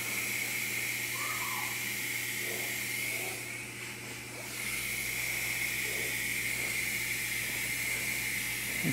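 An airbrush sprays transparent burnt sienna paint in a steady, continuous hiss that holds for several seconds, dipping briefly in the middle before resuming at the same level.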